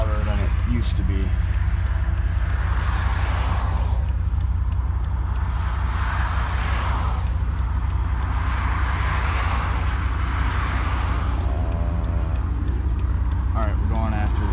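Straight-piped Chevy truck exhaust rumbling loud and deep from the cab while driving, a steady low drone with surges of revving and passing road noise, no talk.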